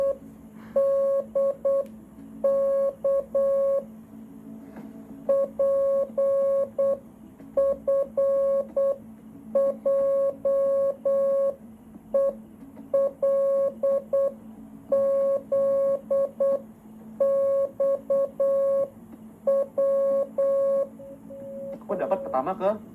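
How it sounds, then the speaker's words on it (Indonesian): Repeated short electronic Morse code beeps in irregular groups of long and short tones, with a low murmur of voices underneath, during a game show challenge. "What is this, Morse code?"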